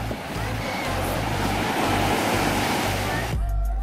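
Ocean waves wash onto a beach in a steady, loud roar of surf that stays close and constant, with the texture shifting briefly near the end.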